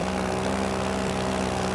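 A light A-wing aircraft in a flight game drones loudly and steadily with a constant propeller-engine hum, close and unbroken, with no talking.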